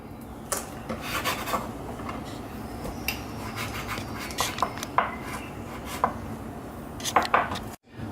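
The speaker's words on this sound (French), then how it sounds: "Nous allons à présent portionner ce qui va nous servir en fait de buns." Dough for burger buns being cut into portions on a work surface: irregular knife or scraper strikes and rubbing scrapes over a low steady background hum.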